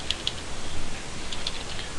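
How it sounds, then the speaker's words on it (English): Keys clicking on a computer keyboard while entering text into a spreadsheet: a few light, irregular taps close by over a steady background hiss, with no talking. "I'm just typing in text, and whenever I type, I see the box."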